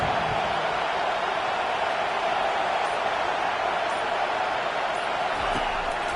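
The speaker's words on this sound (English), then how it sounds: "Listen to this crowd just shaking the girders of this place, trying to help their defense." A home-team football stadium crowd roars in Madden NFL 25, urging on the defense. The roar is a constant, loud wash of noise that never lets up, with no break or peak.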